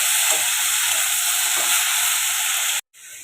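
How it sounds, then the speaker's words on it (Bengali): Ridge gourd curry with potato and turmeric frying in a pan, a close, steady hissing sizzle that runs evenly and then cuts off abruptly just before the end, returning faintly. "একটু ভাজা ভাজা করে নেব"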